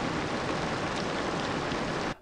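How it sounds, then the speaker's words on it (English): A rain sample playing in Ableton Live gives a steady, dense hiss of rainfall that cuts off abruptly at the end. "So I've already put in a rain sound"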